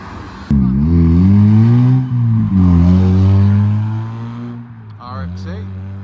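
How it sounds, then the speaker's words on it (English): Honda Civic Coupe leaving a car meet, its engine revving up loudly with rising pitch, dipping between gear changes, then fading as it pulls away; a sharp click at the start, no talk. "So we've got a Civic Coupe leaving"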